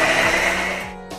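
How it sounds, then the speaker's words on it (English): Blender whirring through boiled pumpkin for a paneer pumpkin gravy, a loud, brief motor hum that sags in pitch several times as the load shifts, with no speech. "Now put it into a blender and blend it."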